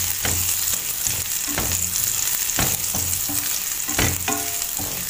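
Garlic sizzles steadily in a hot pan while being stirred until it browns, with repeated scraping strokes of the utensil cutting through the constant frying hiss.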